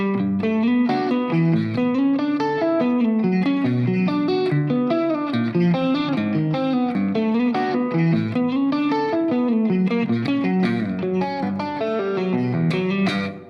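A distorted electric guitar riff repeats steadily with chorus and reverb effects, loud and continuous, no voices.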